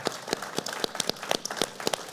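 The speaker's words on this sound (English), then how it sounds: "Let's give a big round of applause to Joe Handrick and Jim Holperin." Scattered handclaps from an election forum audience, a thin, uneven patter of individual claps rather than a full ovation, fairly faint.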